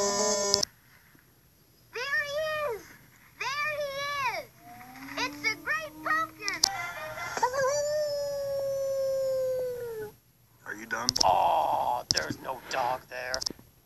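Two wolves howling as a sound effect, long rising and falling tonal howls that overlap and trade off, loud and close, with short breaks between calls.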